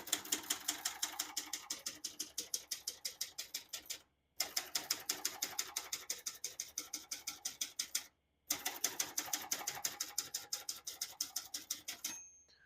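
Rapid, steady mechanical key strikes from a 2004 Olympia Traveller C portable manual typewriter clatter in three runs separated by short pauses, close and crisp.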